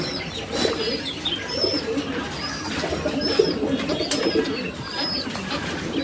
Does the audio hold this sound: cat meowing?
no